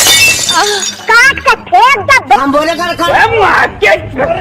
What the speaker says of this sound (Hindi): कुल्हाड़ी मारते ही शीशे की तरह टूट जाती है।